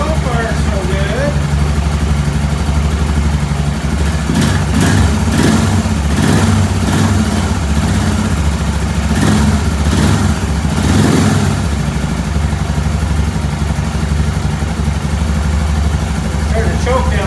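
Motorcycle engine idling after a long-stored start with the choke being adjusted; a steady, loud low rumble runs throughout with a few throttle blips in the middle, while someone talks over it.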